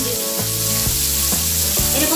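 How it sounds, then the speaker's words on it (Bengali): Vegetables fry in a little oil in a pan, giving a close, steady sizzle with soft stirring scrapes that come at regular intervals. "এরকম অল্প অল্প তেল দিয়েই আস্তে আস্তে এটা একটু সময় নিয়ে ভাজতে হবে।"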